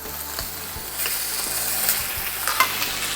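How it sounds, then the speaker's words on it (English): Meat searing on a hot barbecue grill, a steady close sizzle with occasional scraping clicks from tongs or a spatula, continuous and fairly loud with no voices. "we're Just going in there to sear it"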